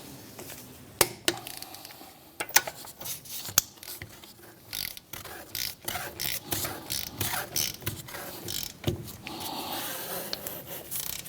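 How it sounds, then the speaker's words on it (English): A 17mm socket on a torque wrench set to 73 foot-pounds tightening wheel lug nuts on a 2007-2013 Mitsubishi Outlander, with close ratcheting clicks, metallic knocks and rubbing mechanical sounds in irregular bursts. "we'll go ahead and grab our 17mm socket, set it to 73 foot-pounds torque, and we're going to run around these lug nuts in a star pattern"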